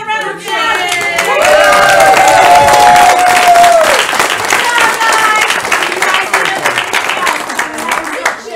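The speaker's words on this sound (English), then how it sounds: "give them another round of applause" An audience at a children's Christmas program claps and cheers loudly and continuously, a dense crowd of hands with excited voices and a child's squeal rising over it near the start.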